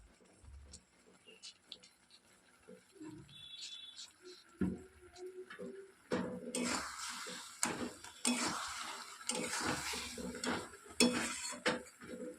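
Green mango pickle with roasted spices is stirred in a pan, with scraping and clinking of a utensil against metal that grows busier and louder alongside a soft sizzle.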